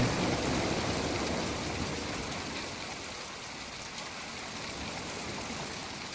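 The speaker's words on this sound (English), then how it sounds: "Great, it's raining." Steady rain hiss in the game Planet Explorers, a dense even wash of falling drops that eases slightly after the first couple of seconds, with no voices.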